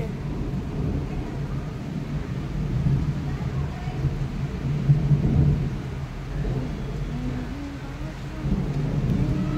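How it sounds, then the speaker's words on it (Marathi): Deep thunder rumbles and rolls through steady rain in a village, swelling and fading in low waves, with faint voices beneath it. "विजा बघा कसल्या गरजायला लागल्या"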